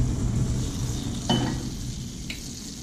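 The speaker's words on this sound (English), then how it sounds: "I'm going to start by sauteing my onions" Onions sautéing in a pan, a steady close sizzle with occasional spatula scrapes and a light clink.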